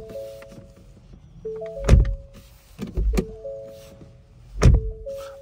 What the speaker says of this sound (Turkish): Bu arada şu kapı kapanma sesini de dinleyin.